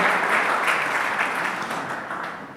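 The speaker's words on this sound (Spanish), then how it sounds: "un fuerte aplauso a su palabra en esta mañana" Congregation applause at a church service, a dense sustained wash of many hands clapping that fills the whole stretch and slowly tapers toward the end.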